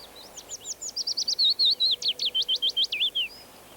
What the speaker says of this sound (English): While here again is the willow warbler's song for comparison.